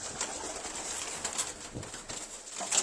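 Several pigeons offered for sale coo steadily and close, their low rolling calls overlapping continuously amid light background noise, without speech.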